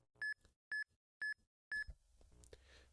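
Four sharp, evenly spaced electronic beeps from a game console countdown timer in a Pokémon game, clean and close, followed by faint background noise.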